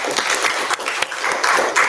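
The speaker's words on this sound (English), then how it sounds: "A round of applause for these amazing speakers now." An audience gives a brief round of applause for the speakers at the close of a global workshop session, dense clapping filling under two seconds with slight dips in level.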